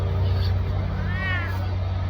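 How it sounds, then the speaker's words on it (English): A cat meows once in the Batman Telltale game, a single rising-falling mew in the middle over a low steady hum and background murmur. "That was our cat."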